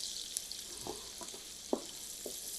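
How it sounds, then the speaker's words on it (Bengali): Onions fry in hot oil toward golden brown, giving a constant bright hiss with a few soft stirring knocks, close and alone. "পেঁয়াজটাকে আমি বেরেস্তা করে নিব।"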